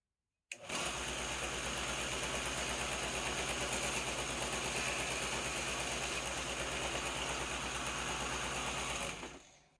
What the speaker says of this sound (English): use my homemade belt sander to turn this square face into a round one